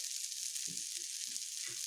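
Water spinach frying in a pan with black cumin seeds and garlic, a steady bright sizzle that continues throughout, with a few soft stirring thumps underneath.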